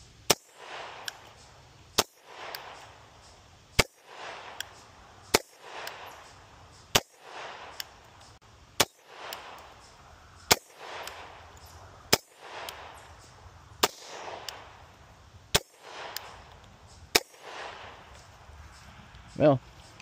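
A Taurus TH10 10mm pistol fires outdoors in a steady slow string of about a dozen sharp, loud shots, each with a short ringing decay.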